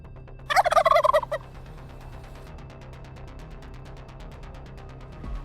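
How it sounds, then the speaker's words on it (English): Wild turkeys gobbling near farmland, a single loud burst of rapid, rattling gobbles near the start, then only a faint, steady background hum. "Wild turkeys, a native bird of the United States, are also involved."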